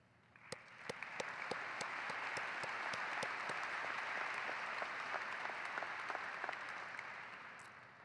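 Audience at a 2023 high school graduation ceremony applauds parents and families, a broad steady wash of clapping that rises quickly, holds loud and even for several seconds with a few sharp close claps standing out, then tapers.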